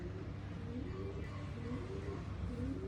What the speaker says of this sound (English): And in the background you hear the noise, that is pigeons in my balcony.